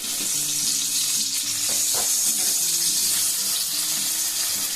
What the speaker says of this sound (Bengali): ফ্রাই প্যানের মধ্যে দিয়ে ভেজে নিই